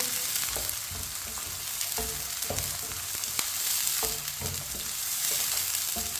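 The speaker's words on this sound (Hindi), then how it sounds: "इसे ऐसे ही चम्मच चलाते हुए ब्राउन करना है।" Desi garlic frying and browning in a pan for an aloo baingan dish, a steady close sizzle with regular scraping and clinks from a spoon stirring, no talk.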